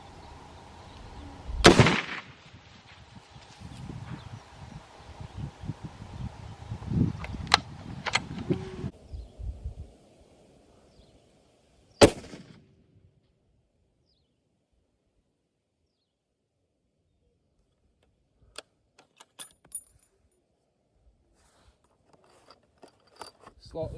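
A .300 Winchester Magnum rifle fires a sharp, loud shot at a steel plate set at 555 over an outdoor rustle of wind and movement, followed later by a second crack and scattered faint clicks in the quiet.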